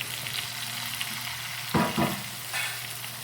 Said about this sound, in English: add the fillets to the skillet. You should hear a nice sizzle